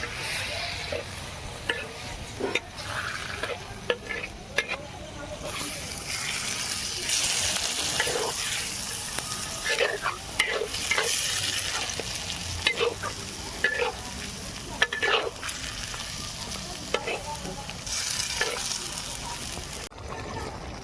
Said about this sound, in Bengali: এবার এটাতে একটু হালকা জল দিয়ে দেবো।